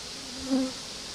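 A single bee drones briefly close to the microphone at a hive in Volyn used by a beekeeper for health treatments, a soft buzzing swell lasting under a second.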